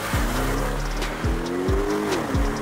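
A Porsche convertible accelerates hard on a highway, its engine note climbing through several quick gear changes, loud and close, each upshift dropping the pitch before it rises again.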